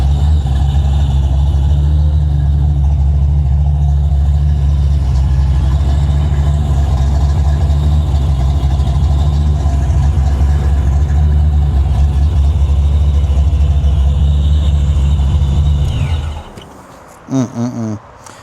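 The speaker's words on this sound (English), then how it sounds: "this is one of the last times I'll ever drive this car right here" A car nicknamed the Carbon Fox, heard while being driven: a loud, steady low engine drone that holds constant, then cuts off abruptly near the end, followed by a few brief knocks.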